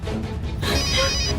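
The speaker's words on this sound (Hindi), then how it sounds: "करीना का फोन" A telephone rings in an indoor drama scene, a short burst of bright electronic ringing that comes in partway through over a low background hum.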